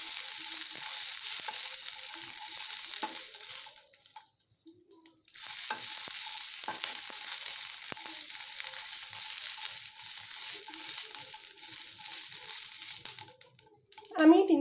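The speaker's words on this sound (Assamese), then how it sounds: "এনেদৰে সলাই সলাই মই ইয়াক 3 মিনিটমানৰ কাৰণে ভাজি ল'ম।" Raw green chillies fry in a spoonful of hot oil while being stirred, a continuous loud sizzle with scraping stirs that briefly drops away midway before resuming.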